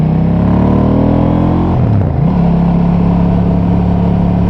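A KTM 790 Duke motorcycle engine runs loud and close, its pitch dropping and then settling into a steady, throaty idle.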